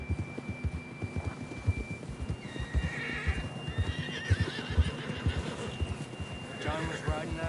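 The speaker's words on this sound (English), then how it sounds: "John was riding that horse when we left Blackwater." Horse whinnying and hooves clip-clopping in the video game Red Dead Redemption II, a steady trotting rhythm with a neigh in the middle, layered over game music and spoken dialogue.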